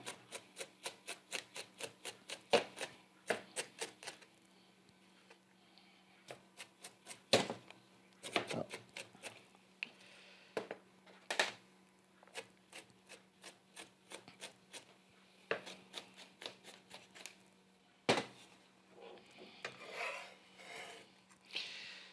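An onion being chopped with a rocking knife on a cutting board, giving rapid runs of sharp, close taps with short pauses and a scrape as the pieces are gathered, without talk.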